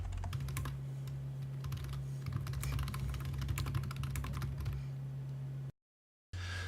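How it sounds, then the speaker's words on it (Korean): Rapid clicky keystrokes on a computer keyboard entering an AutoCAD command, close and steady over a low hum, ending in a short moment of silence. "이 MI를 입력하고 엔터 클릭."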